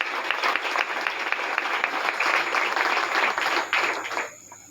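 Applause rises from an audience at a women's political gathering, a dense, steady patter of many clapping hands for about four seconds before it fades out quickly.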